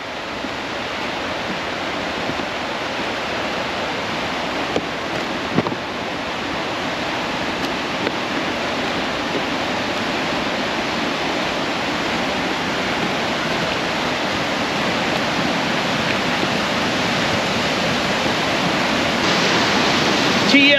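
A waterfall at Aulds Cove rushes steadily, a loud broadband roar that holds for the whole stretch and swells slightly toward the end, with no one talking.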